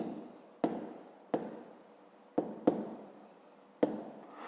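Handwriting on paper while working a fifth-grade maths exercise: several distinct pen strokes, each starting with a sharp scratch and fading, close and fairly quiet, with short pauses between them.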